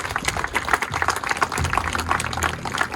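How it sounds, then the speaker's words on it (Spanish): A congregation at a church gathering claps for the King, a thick, even wash of many hands applauding continuously for about three seconds, with a low rumble beneath. "Dale un fuerte aplauso al Rey."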